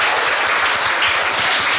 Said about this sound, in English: let's give both teams a round of applause